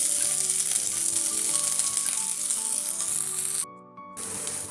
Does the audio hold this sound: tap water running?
no